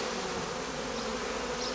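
A honeybee swarm entering a hive makes a dense, steady buzzing drone of many bees, close and continuous throughout with no voices.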